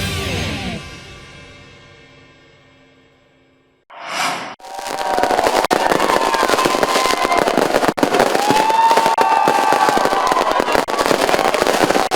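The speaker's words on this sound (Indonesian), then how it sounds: "Detik-detik pergantian tahun di Pantai Kuta diwarnai kemeriahan pesta kembang api." New Year fireworks at Kuta Beach, Bali, explode in a dense, continuous barrage of crackling bursts and booms after a brief quiet stretch, loud and sustained throughout.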